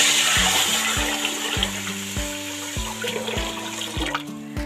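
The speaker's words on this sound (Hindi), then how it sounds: "अब मैं इसके अंदर डालूंगी पानी" About two kilos of water pour into a pot of whole mash dal, a loud rushing splash that slowly settles, with steady tonal background music beneath it.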